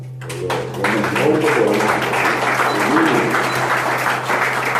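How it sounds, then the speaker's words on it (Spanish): A crowd at an arts and culture festival in Asunción breaks into applause for a guest, clapping building quickly and holding as a dense, steady roar, with a low electrical hum underneath and some voices mixed in. "Yo creo que un aplauso para ella."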